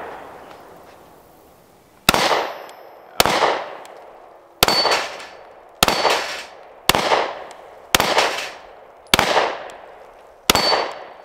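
A Canik Mete MC9 pistol fired from a 12-round magazine, eight sharp, loud shots after a quiet start, spaced about a second apart with short ringing decays.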